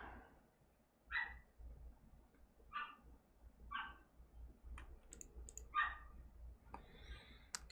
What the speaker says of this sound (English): There's a yippy dog outside my window.